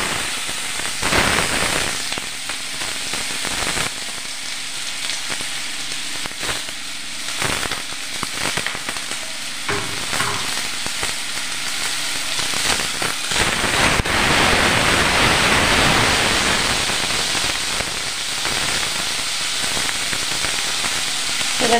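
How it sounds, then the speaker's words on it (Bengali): Potatoes sizzle and crackle as they fry in hot oil for a stuffed roll filling, a steady dense hiss with sharp spitting pops at the start that swells louder and thicker toward the end. "তেলটা গরম করে নিয়েছি, এবার দিয়ে দিচ্ছি এই আলু। প্রথমে একটু আলুটা ভেজে নেব"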